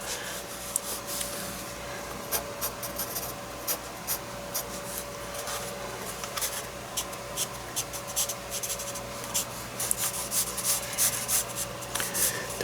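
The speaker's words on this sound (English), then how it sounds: "We're just going to give it a sketch in it, remember." Pencil scratching across paper while sketching a New England barn, close and rhythmic with short repeated strokes over a faint steady hum.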